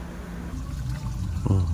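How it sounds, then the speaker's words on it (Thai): Water drains from a previously blocked waste water pipe, a steady rushing, gurgling flow that swells and bubbles near the end, close by, with no talking. "ตอนนี้ น้ำไหลออกไปละ"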